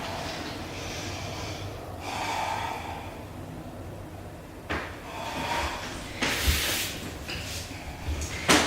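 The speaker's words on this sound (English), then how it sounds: "Inhale and exhale." Slow inhales and exhales during a reverse namaskar yoga sequence, several soft breaths audible close by in an otherwise quiet room, with a few light thumps and rustles of movement.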